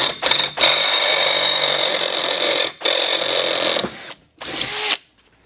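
A power drill with a dull bit grinds loudly into metal on a 1978 Ford F150, running in long sustained bursts with brief pauses and a final short burst, close and alone with no talk.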